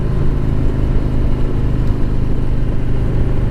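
A car driving through Joshua Tree National Park: a loud, steady engine and road drone heard from inside the vehicle, unbroken throughout.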